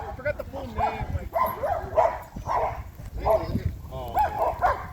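Dogs including a Cane Corso bark and yip at a busy dog park, with repeated overlapping barks in quick bursts, close and loud, and people talking underneath.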